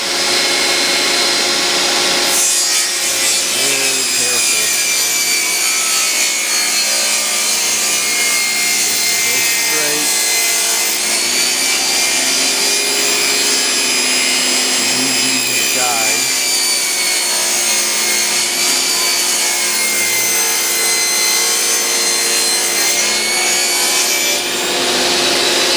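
Wood being hand-sanded with a sanding pad, pressed lightly, on part of a third-level lighting section of a scale Imperial playset; a steady, continuous rasping rub runs throughout at a fairly loud, close level.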